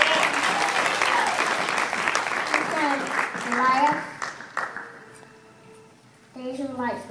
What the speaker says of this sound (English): Clap your hands unto the Lord as he comes.